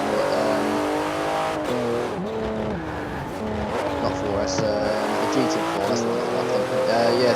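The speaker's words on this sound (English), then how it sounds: "this one sounds a bit like the 959 and the 1990s Porsches" A Porsche racing car engine in a video game drones and revs continuously, shifting pitch as it accelerates and changes gear, with a faint tire squeal in the background.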